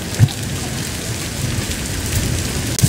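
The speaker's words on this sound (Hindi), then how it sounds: "ओले पड़ना शुरू हो गए" Heavy rain mixed with hail pours onto a road in Islamabad, a dense, steady hiss that fills the whole stretch, with a few louder low thumps along the way and no voices.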